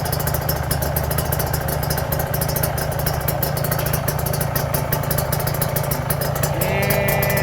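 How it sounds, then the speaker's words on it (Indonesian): A Kawasaki Ninja 150 two-stroke engine, newly rebuilt, idles close by with a steady, fast, even buzzing putter throughout, alone without talk. "suara mesinnya itu udah halus apa ada kekurangan gimana"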